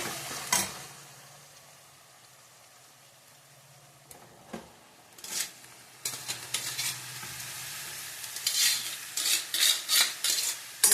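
Cooked greens and pigeon peas tipped into fried onions in a pan and stirred, a soft sizzle under scraping spoon strokes that grow more frequent and rhythmic toward the end, with occasional clinks of utensil on metal.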